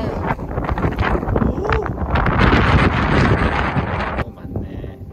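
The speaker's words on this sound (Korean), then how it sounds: "바람 조심하세요. 날아갈지도 몰라요." Strong, roaring wind on a mountain trail at night in the Yeongnam Alps near Yeongchuksan, buffeting loudly and steadily for several seconds, with gusting rumble against the microphone before it suddenly drops near the end.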